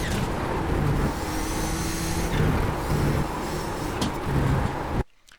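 A race car in iRacing at Circuit of the Americas holds a steady, loud engine drone at speed, with the pitch rising and settling through the gears before cutting off abruptly near the end.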